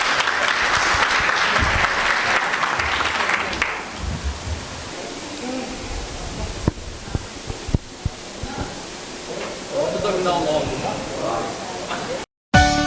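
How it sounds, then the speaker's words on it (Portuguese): An audience claps for the speakers at a panel debate on the circular economy and recycling, a full burst of applause for about four seconds that breaks into a few scattered claps, with voices talking afterward. "por favor, aplausos aos palestrantes"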